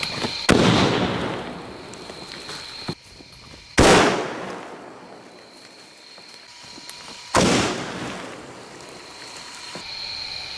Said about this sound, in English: I decided to give this setup another try with a much more aggressively crimped pipe. I'm going to hit the camera to detonate it